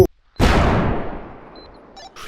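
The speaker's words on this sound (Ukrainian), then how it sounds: "Ти куди стріляєш, ей?" A single loud gunshot-like boom rings out in a realistic bodycam shooter game and decays slowly over about a second and a half, with a faint sharp tick at the end.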